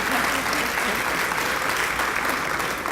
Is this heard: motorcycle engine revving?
no